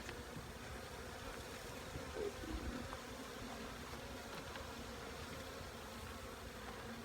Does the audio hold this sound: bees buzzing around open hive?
yes